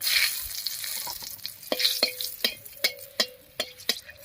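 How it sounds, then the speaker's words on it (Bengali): Dried red chillies and black cumin crackle in oil left over from frying fish, a soft sizzle cut by a regular series of sharp taps as a spatula strikes the pan, close and without voices. "মাছ ভাজার এই তেলের মধ্যেই ফোড়ন দেবো আর ফোড়ন দেবো শুকনো লঙ্কা আর কালো জিরা দিয়ে"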